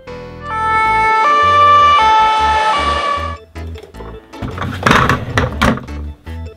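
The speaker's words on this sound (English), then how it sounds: "white ambulance" A loud two-tone ambulance siren alternates high and low for a few seconds, then cuts off into a series of clunky thumps and clattering knocks.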